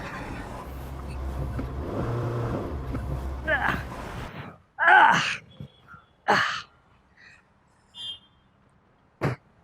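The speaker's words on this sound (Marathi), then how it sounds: "मी गाडी काढतो" A car engine runs and revs, then cuts off partway through. Short bursts of voices and breaths follow, with quiet gaps between them.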